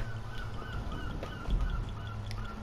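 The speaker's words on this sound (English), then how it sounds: "Shut up, seagulls!" Seagulls cry in the video game Shadow of the Tomb Raider, repeated honking calls over a constant low rumble of background ambience.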